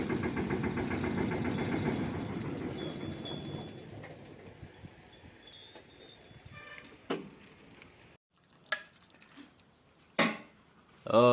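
A tractor engine idles at close range in a village, a steady low rumble that fades after about four seconds, leaving quiet gaps and a few sharp knocks and clatters.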